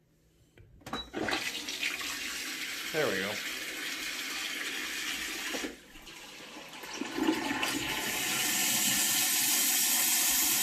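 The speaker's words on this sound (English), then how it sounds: "Vacuum flush toilet." A vacuum toilet in a hotel bathroom in Sokcho, South Korea flushes with a sharp suction whoosh and then a long rush of refilling water, heard close in a small room, with someone speaking briefly at the start.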